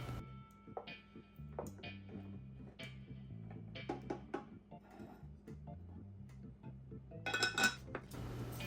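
A spoon stirring seasonings in a metal cooking pot, with light irregular clinks and taps spread across several seconds and a brighter cluster of scraping clinks near the end, quiet and close.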